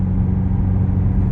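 A Corvette C6 Z06 idles with its exhaust valves held open, a deep steady rumble that is close and loud, with no voices over it.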